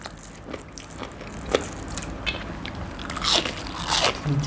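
Spicy squid salad is chewed with loud, crunchy bites, close to the microphone, in an irregular run of crisp crackles and munching.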